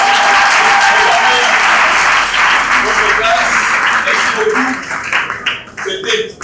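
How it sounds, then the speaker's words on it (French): Loud audience clapping from a crowd of pupils at a live public broadcast on girls in the sciences, a thick, sustained burst that thins out and fades near the end as voices begin to come through. "Est-ce qu'on peut applaudir très fort?"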